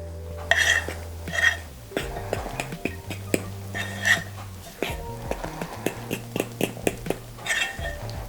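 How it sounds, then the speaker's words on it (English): A whisk works flour into banana donut batter in a bowl, its metal wires clinking and tapping against the sides in quick irregular strokes, close and fairly loud over a low steady background tone. "And then we're just going to whisk in the flour."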